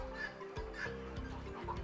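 Chickens on a poultry farm housing thousands of birds, a steady murmur of clucking from many hens close by, with no voices.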